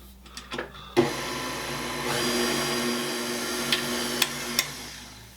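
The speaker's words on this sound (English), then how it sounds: "we're just going to take our whisk attachment in our stand mixer here and whisk it together" A stand mixer with a whisk attachment whirs steadily as it whisks flour and salt for croissant dough, with a motor hum and a few light clicks and taps along the way.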